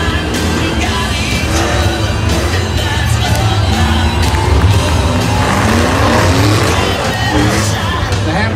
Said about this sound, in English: these guys know how to drive a V8 car.